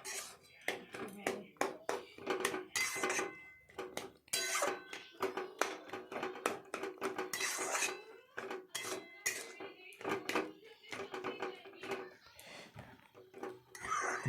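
A utensil scrapes and knocks against a pan while chalkumro bori curry with a little sugar is stirred, giving repeated close clinks and scrapes in an uneven rhythm.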